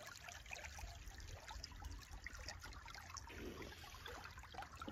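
Water trickles steadily toward the Ninda river, a faint, continuous outdoor flow with no voices.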